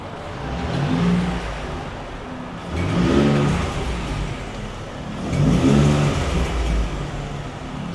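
Car engine fitted with new turbos and turbo manifolds, revving repeatedly in three swelling bursts with a raspy, exhaust-like rush, loud and close with no voices.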